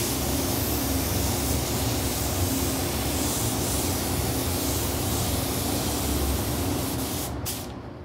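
Spray gun laying down coats of 4050 paint on a custom painted dino bank inside a booth, a steady loud hiss running unbroken for several seconds before cutting off near the end.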